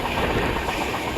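Sampark Kranti Express rolling on rails out of Ernakulam, a steady loud rumble with faint rhythmic clatter and no talk over it.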